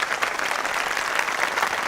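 Steady applause from an audience fills the moment, dense continuous clapping at even loudness with no pauses, like a crowd in a hall clapping again and again during a dramatic scene.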